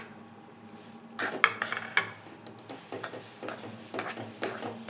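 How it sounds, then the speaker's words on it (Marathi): Spoon scraping and stirring roasted semolina into roasted gram flour in a pan, producing a run of close metallic clinks and scrapes in an irregular rhythm, no voices. "ह्याच्यामध्येच आपल्याला हा भाजलेला रवा मिक्स करायचा आहे"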